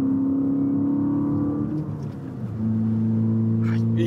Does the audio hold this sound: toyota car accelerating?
yes